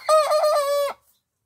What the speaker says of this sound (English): The chickens seem to be doing way better.